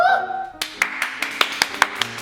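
Hand clapping in about eight sharp, evenly spaced claps, close and clear, following a brief sung or spoken tone.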